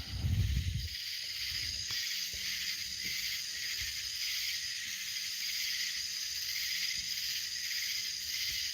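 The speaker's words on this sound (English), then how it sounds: "I'm glad I don't mind the noise of these damn bugs" A continuous high, shimmering insect drone hums throughout, steady and moderately loud, with a brief low rumble at the very start.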